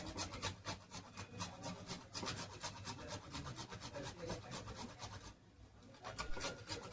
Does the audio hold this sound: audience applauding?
no